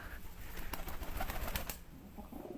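A pigeon is heard, with soft cooing and a flurry of wing flaps close by, over a low background rumble.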